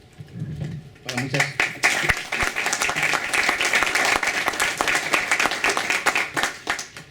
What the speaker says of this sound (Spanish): muchas gracias por el aplauso preventivo